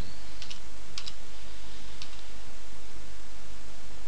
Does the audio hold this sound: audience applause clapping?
no